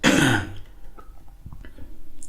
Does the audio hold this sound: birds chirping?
no